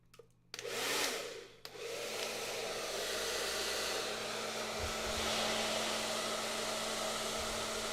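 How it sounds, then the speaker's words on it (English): Blow dryer heating a hair brush. It starts with a brief click and burst of airflow, then blows as a loud, steady whir with no speech. "when I take the blow dryer off"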